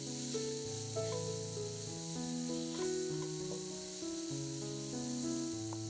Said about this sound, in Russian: Готовим грибы на большом огне до испарения жидкости.